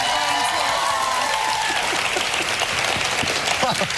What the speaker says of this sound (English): Why is that something you guys clap for?